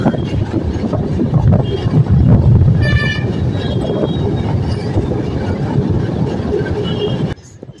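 A passenger train pulling out of Rajahmundry railway station rumbles loudly up close, with heavy wheel and carriage noise and a brief tonal squeal or horn partway through. The sound drops abruptly at the very end.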